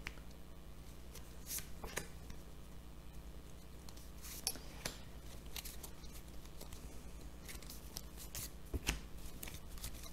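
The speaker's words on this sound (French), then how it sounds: "on va remettre des petites cartes pour en savoir un petit peu plus" Tarot cards are shuffled and laid out close by in quick papery flicks and slaps, some in bursts, over a faint background hum.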